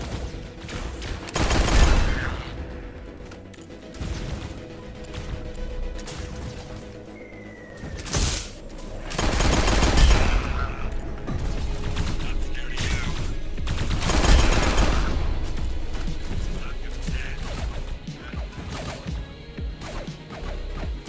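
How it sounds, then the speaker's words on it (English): Three-round burst weapon fire in a video game: a few loud, spaced-out bursts that crack and boom against a rumbling, busy game soundscape. "I hate 3-round burst weapons, dude."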